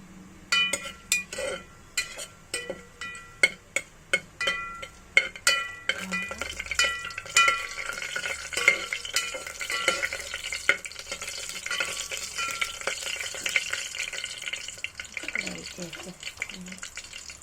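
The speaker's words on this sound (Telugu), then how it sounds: "ఈ తాలింపు గింజలు బాగా ఫ్రై చేయాలి" Tempering seeds sizzling and being stirred in a pan on the stove, with quick clinks of a spoon against metal at first, then a steady soft frying hiss close by.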